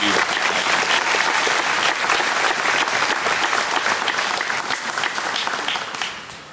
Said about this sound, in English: another round of applause for Miss June Correll